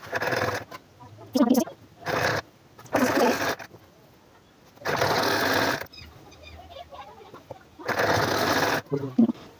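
A sewing machine stitches a velvet hoodie in loud whirring bursts of a second or two, separated by pauses. A voice speaks quietly in the gaps.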